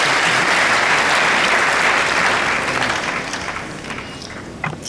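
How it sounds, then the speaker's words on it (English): Loud, sustained applause from a large audience after a choir performance at a Ghanaian ceremony attended by traditional leaders, dense clapping that tapers off slightly toward the end. "let's give them a hand of applause."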